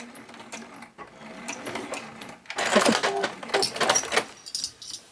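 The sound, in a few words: sewing machine stitching forward and backstitching fabric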